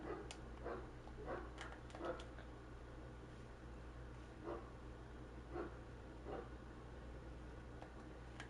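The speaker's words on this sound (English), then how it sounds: "Do you guys hear that dog?" A dog barking off in the background, several faint, scattered barks and yips over a steady low hum.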